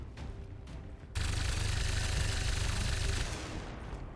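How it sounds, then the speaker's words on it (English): Cannon and rocket launcher fire in a Warhammer 40k video game mod, opening with scattered distant shots before a loud, dense barrage of heavy blasts and rumbling booms erupts after about a second and holds steady, then eases slightly near the end. "Double tap with a cannon and a rocket launcher just feels evil"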